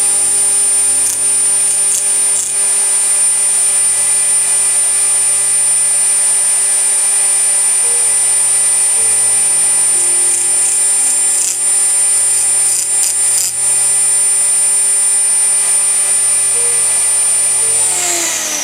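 A power tool cutting a wooden wing rib runs steadily and loudly throughout, a continuous close whine with a faint pulsing undertone and no pauses.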